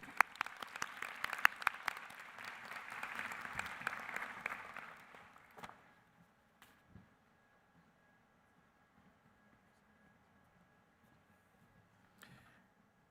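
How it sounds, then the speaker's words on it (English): Applause from the audience at a UMass Global commencement ceremony, a warm wash of clapping with a few sharp nearby claps, fading out after about six seconds into near silence with faint stray sounds. "Let's give all our university members a round of applause"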